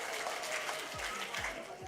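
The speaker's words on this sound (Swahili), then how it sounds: "Pigeni makofi tafadhali." A crowd applauds at the launch of a polio vaccination campaign round, steady mid-level clapping under a muffled voice, with a few low thumps near the end.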